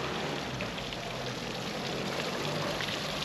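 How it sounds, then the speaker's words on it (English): Water splashes steadily from a town fountain and waterfall in Bergen, Germany, a constant hissing wash heard from a short distance with no talking. "There's a fountain."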